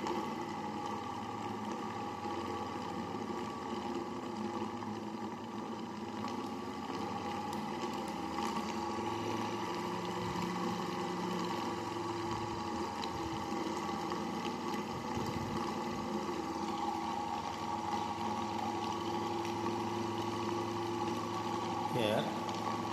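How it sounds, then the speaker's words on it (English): A small homemade axial flux BLDC motor built from a transformer runs steadily, giving a continuous close buzzing whir with a constant pitch that holds for the whole stretch. "Now I am going to switch on the supply. Okay. The motor is going to start."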